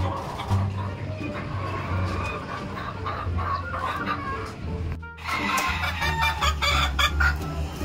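Gamefowl roosters from a Muff and Golden Sweater cross clucking and crowing close by, repeated calls over a low steady background with a brief dip partway through.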